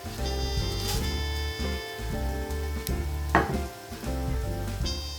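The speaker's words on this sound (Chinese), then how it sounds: "当炒到姜片表面金黄且散发出浓厚香味时，放入香料一起炒香" Star anise, bay leaf, Sichuan pepper and fennel stir-fry with ginger slices in hot oil, a steady close sizzle punctuated by scraping stirs against the pan, with no voices.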